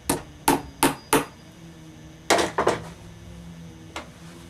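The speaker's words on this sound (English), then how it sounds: "I'm going to get a tack in that while I've got it good and tight" Hammer blows tacking saddle leather in a saddle-making shop: four sharp strikes in quick succession, a pause, then two or three more and one lighter tap, close and distinct.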